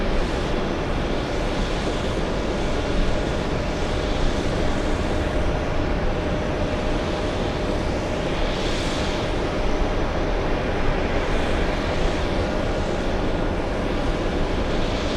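An Airbus A330 jet departing JFK airport for Amsterdam, heard as a steady loud broadband engine roar that holds constant and unbroken, with no talking.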